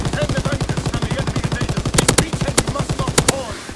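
A mounted machine gun in Call of Duty WWII fires a long rapid, steady burst of loud close shots, with a few sharper cracks layered in near the end.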